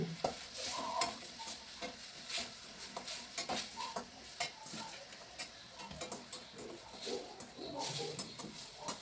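Cauliflower florets tumbled and stirred by hand into a thick, wet batter for street-style gobi manchurian, giving soft squelching and clicking sounds in an irregular rhythm, close up, with no voices.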